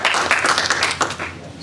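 Brief burst of audience applause at a memorial lecture, dense clapping throughout with some voices mixed in, fairly loud and close.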